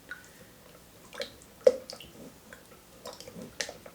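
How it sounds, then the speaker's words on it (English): Green-tinted soap batter being stirred vigorously in a container, soft wet squishes and irregular clicks of the utensil against the sides, close and fairly quiet. "So I'm going to get this in and just stir like crazy."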